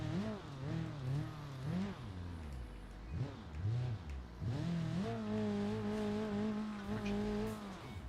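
A four-cylinder off-road vehicle engine in a video game drones steadily and loud, its pitch rising and falling as it revs and shifts, then holding a sustained higher note near the end.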